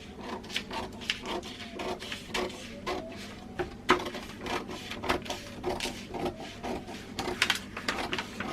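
Paper bodice pattern being cut out with scissors, a run of soft snips and crisp paper rustles and rubs close by, irregular in rhythm, with no talking.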